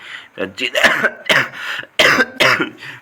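Several loud, close harsh bursts in an uneven sequence, sounding like coughing mixed with throat-clearing from one person.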